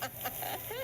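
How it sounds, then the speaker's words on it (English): Chickens cluck in short bursts on a farm, some distance away, over steady background noise. "Listen to the chickens. Chickens in the background."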